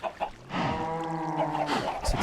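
A cow in the MITE video game gives one long, close, tonal moo lasting more than a second, with faint clucks from farm chickens around it. No one speaks.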